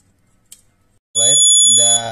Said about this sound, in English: At the same time the buzzer will on